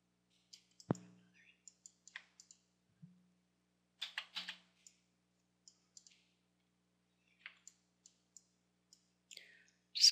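Sparse, faint computer mouse clicks in a quiet room during 3D modelling, single and double clicks at uneven intervals with long silences between.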